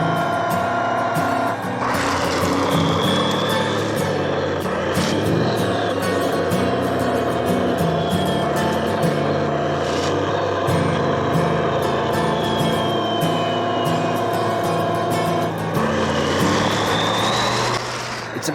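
A radio-controlled DT-75 bulldozer motor whines steadily while it drives and pushes gravel over frozen ground, a continuous close electric drone with gritty scraping and small clicks throughout.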